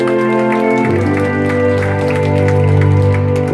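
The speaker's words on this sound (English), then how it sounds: "let's have a big round of applause for our new gunfighters" Steady applause from an audience at a Wild West shootout show fills the clip, continuous and fairly loud, with a sustained musical tone running underneath.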